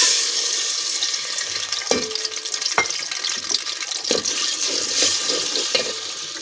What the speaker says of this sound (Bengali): তারপর দিব আদা রসুন পেঁয়াজ বাটা এগুলো দিয়ে দেব তেলটা গরম হয়ে গেছে এখন দিয়ে দেবো